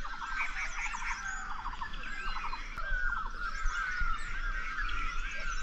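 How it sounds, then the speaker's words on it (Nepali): A dense chorus of many birds calls around a village home in Nepal, overlapping chirps and whistles going on steadily at a distance over a constant low background hum. "यति बिघ्न रहेछ कि चरा चरङ्गी यहाँ वरिपरि।"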